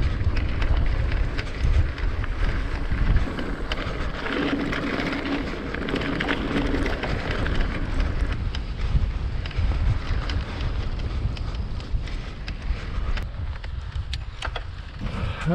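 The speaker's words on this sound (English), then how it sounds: "That wind has got a bit of bite to it actually." Steady wind buffeting the microphone while mountain biking on the South Downs Way, a constant loud rushing roar with no break for the whole stretch and no talk.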